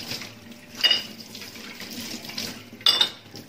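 Dishes and cups are washed in a kitchen sink under a steadily running tap, the water hissing throughout while two sharp clinks of crockery ring out, about two seconds apart.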